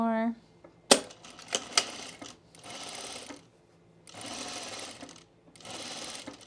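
A sewing machine stitches a top in three short bursts of rapid whirring, separated by pauses. Before the first burst there is a brief tone, and a few sharp clicks and knocks follow.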